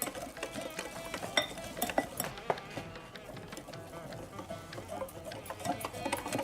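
A spoon whisks cornflour batter in a bowl for an aloo tikki burger, giving repeated light clinks and scraping ticks in an uneven, steady rhythm at moderate volume.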